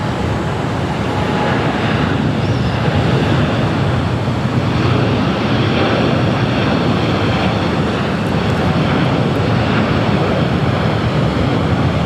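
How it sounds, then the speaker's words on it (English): A LATAM Boeing Dreamliner jet rolls down the runway for takeoff at LAX, a loud, broad, continuous engine roar that stays steady throughout. "the Latam Dreamliner now rolling down 25 right"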